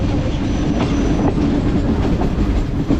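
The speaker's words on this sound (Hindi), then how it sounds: "ज़बरदस्त लोकोमोटिव, पाकिस्तान की शान। सामने से डाउन ट्रैक आते हुए" A Pakistani railway locomotive, a GMU 30, rolls in on the down track with loud, close wheel clatter and rumbling rail noise throughout, with no voices.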